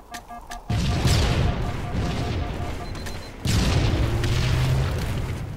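Rocket explosions in Halo precision slayer, two loud booming blasts: one sudden and full at under a second in, a second heavy boom midway, each with a long rumbling tail.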